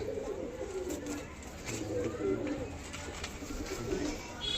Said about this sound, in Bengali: গাইস দেখুন একটা সবুজ মেল, ওল্ড জেনারেশনের পায়রা এটা, দেখে নিন।